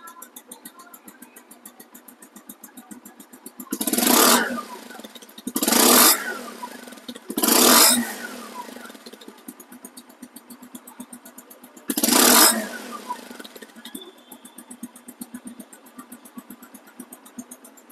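A second-hand Bajaj Avenger ABS motorcycle idles with a steady, fast-ticking putter. Four short, loud throttle revs stand out clearly, three close together and one later, each falling back to idle.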